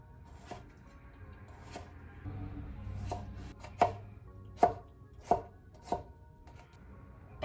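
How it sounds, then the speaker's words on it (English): Knife chopping pickles on a cutting board for burger bowls, a steady run of sharp close thuds with a few louder strikes near the end, no talk. "Something else I'm gonna prep for my little burger bowls are some chopped pickles"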